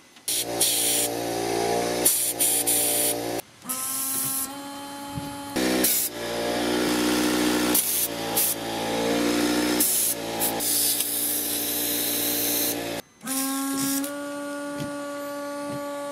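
Car windshield washer nozzles tested off the vehicle, with a double jet on one and a single jet on the other, giving repeated loud hissing sprays over a pump hum, broken by short pauses and no talking.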